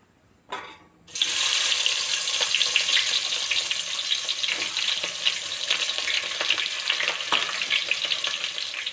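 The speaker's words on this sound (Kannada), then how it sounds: "ಎಣ್ಣೆ ಕಾಯ್ದ ನಂತರ ಈರುಳ್ಳಿ ಹಾಕ್ಬೇಕು" Onions dropped into hot oil for biryani, a brief soft rustle followed by a sudden loud burst of sizzling that settles into a steady, close crackle of frying with occasional pops, no talk.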